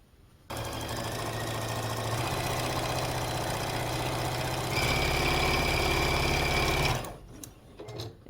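A sewing machine stitches snowman quilt pieces, cardinal, snowflake and skate shapes, with a quarter-inch seam, running steadily and loudly for about six seconds with a slight speed change midway before stopping.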